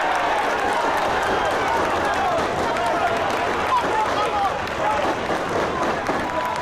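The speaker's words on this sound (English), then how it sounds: "Listen to the noise from the home crowd" A home crowd at an FA Cup preliminary round penalty shootout between Walthamstow and Cockfosters roars and applauds after a penalty save, sustained loud cheering under a commentator's voice.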